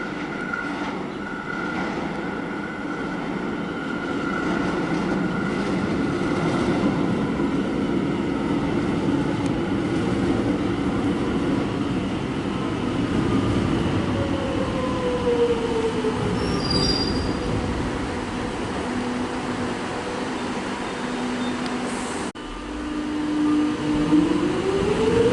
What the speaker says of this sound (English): You've got an express arriving for a Flinders Street service.